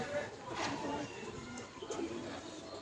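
Pigeons, including young baby birds, coo softly in a loft, low soft calls repeating under someone talking.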